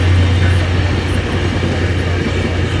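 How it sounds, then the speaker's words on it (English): A passing train in Florida gives a loud, continuous low rumble with a broad roar, steady throughout and close by, with no clear talk. "Oh, the train, look."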